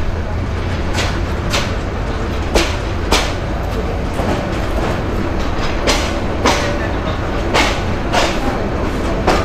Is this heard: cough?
no